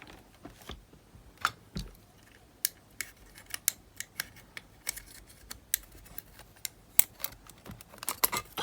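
Small screwdriver clicks and ticks while hinge screws are unscrewed on a Panasonic RQ-S60 cassette player, sharp close taps in an irregular run with quiet gaps.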